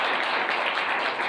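Short burst of audience clapping at a Catholic parish gathering, a dense even patter at moderate level lasting barely over a second.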